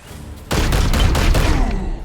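Weapon fire in Chaos Gate - Daemonhunters, a quiet moment broken by a sudden loud burst of rapid gunshots, five or six sharp cracks in quick succession over heavy low rumble.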